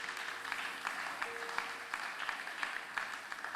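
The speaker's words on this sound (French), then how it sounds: "tobeteli yesu maboko" Church congregation applauding for Jesus, a dense wash of clapping from many hands that holds steady and fairly loud throughout.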